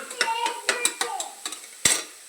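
Peanuts and tomatoes stirred in a frying pan, with a series of clinking utensil scrapes against the pan over a soft sizzle, loud and close.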